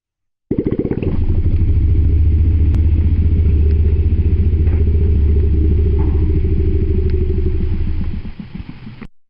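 Played recording of an elephant's low-frequency rumble vocalization, a steady, deep, loud throbbing drone resembling a truck engine that runs for about eight seconds before cutting off.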